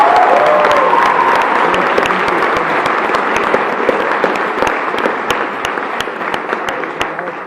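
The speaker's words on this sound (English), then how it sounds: "Let's give a big round of applause" A big round of applause from an audience of seniors at a hypnosis show during a lock-in, dense clapping that stays loud and steady for the whole stretch and tapers slightly at the end.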